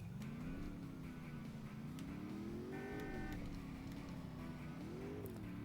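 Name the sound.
car engine in the Driver video game on PS1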